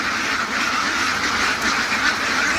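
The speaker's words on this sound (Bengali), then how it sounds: "আর এখন কাজ হয়েছে, হাঁসগুলো আমরা ছেড়ে দিব" Farm ducks quacking as they are let out, a dense, continuous clamor of many birds close by, loud and unbroken throughout.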